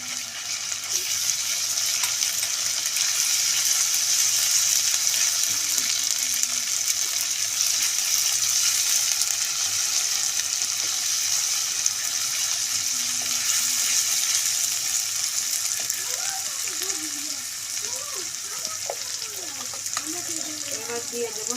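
Onion fried until brown, with garlic paste and cumin paste added, sizzles steadily in a pan as it is stirred and mixed, a constant hiss with faint scraping and a brief voice near the end.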